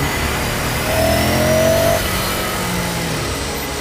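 A Ducati Scrambler Sixty2 motorcycle's engine runs and briefly revs higher while being ridden through traffic, heard steadily up close under wind-muffled recording.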